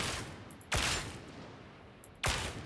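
Two sharp rifle shots from a Veteran marksman's weapon in Warhammer 40k: Darktide, about a second and a half apart, each a loud broadband crack with a short decaying tail over quiet game ambience.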